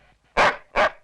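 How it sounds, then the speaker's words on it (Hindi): A dog barks twice, close and sharp, with a short pause between the two barks in an otherwise quiet setting. "कुत्ते हट हट"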